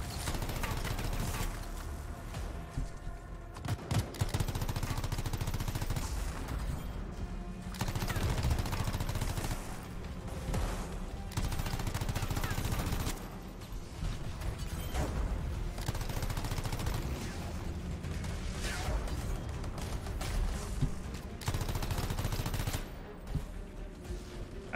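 Sustained gunfire in the video game Anthem, with rapid bursts of shots and explosive blasts at a loud, dense level, broken by a few brief pauses and with no talk over it.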